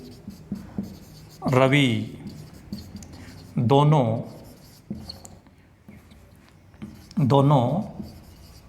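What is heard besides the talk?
writing on a board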